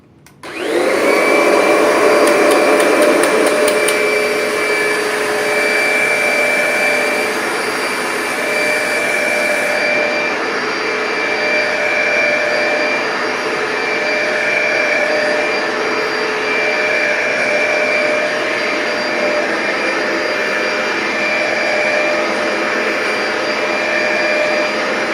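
A Kirby G5 upright vacuum cleaner starts up abruptly and runs loud and steady on a sand-covered carpet, a sustained high whine with a constant motor hum holding for the whole stretch without pause.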